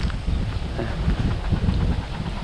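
Gusty wind blows before rain in an open rural setting, a rough steady rushing with buffeting bursts close to the microphone, loud and continuous.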